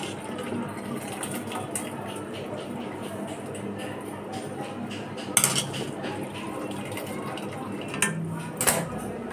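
Boiled macaroni being lifted out of a pan with utensils: steady kitchen clatter with metal scrapes and a few sharper clinks of cutlery against the pan.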